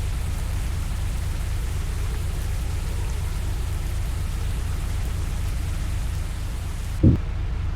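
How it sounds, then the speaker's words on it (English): Steady, dense rain from an intensifying tornado-producing storm pours down with a constant hiss and low rumble, ending in a brief thump. "There it is, the rain's getting heavier."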